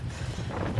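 Wind blowing across an open lakeside campsite in a state park in southwest Iowa, a steady low rumble of gusts buffeting the microphone with no voices, continuous for the short stretch.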